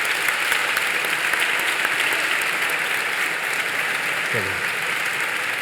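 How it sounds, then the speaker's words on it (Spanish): Steady, dense audience applause fills a live conversation event in Logroño, an even wash of many hands clapping from start to finish, with a brief voice heard over it. "yo creo que les podíamos dar un aplauso"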